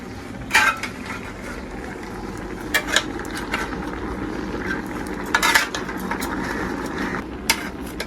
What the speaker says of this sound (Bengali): এখন ভালোভাবে সবজির সাথে মিশিয়ে নেব।